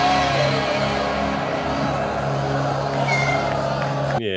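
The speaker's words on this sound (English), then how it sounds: "There's a cat meowing in the background of the sound effects." A cat meows softly in the background of a busy Kung Fu Hustle film soundtrack, a faint short cry that sits under dense music and effects.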